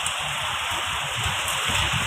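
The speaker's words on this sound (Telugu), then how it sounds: "మా ఊళ్ళో వర్షం పడుతుంది" Steady rain falls in a dense, even hiss, with scattered drops pattering on surfaces nearby and no voices.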